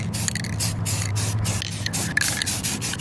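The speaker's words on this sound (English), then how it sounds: "Once I started spray painting" Someone works a spray can outdoors over poster board, painting household items. A series of short, close hissing bursts comes in an uneven rhythm with brief pauses between them.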